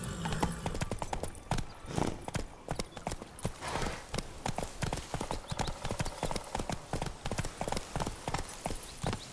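Roach the horse trotting in The Witcher 3, steady clip-clop hooves in a quick, even rhythm, close and prominent throughout with a brief whinny-like edge and no talk over it.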